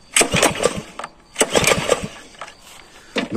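The starter cord of a Scheppach MS132-42 self-propelled petrol lawn mower is yanked in several loud, rasping pulls with uneven gaps. The engine does not settle into a steady run.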